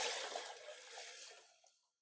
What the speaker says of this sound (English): we're going to rinse the beans out, add it to our bowl